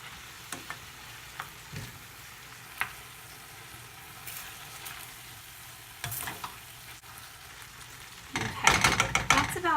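Vegetables in teriyaki sauce being stirred in a pan, soft sizzling under scattered scrapes and taps of a utensil, growing louder and busier toward the end, no talk.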